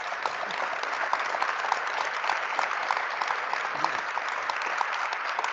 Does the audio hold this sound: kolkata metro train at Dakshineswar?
no